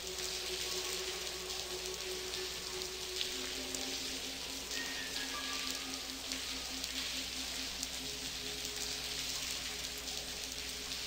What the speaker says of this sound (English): I hope the rain stops before we're done.